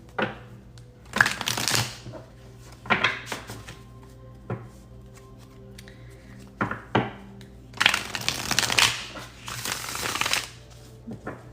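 A deck of tarot cards being shuffled close up in several separate bursts of riffling and flapping, with quiet gaps and light handling between them.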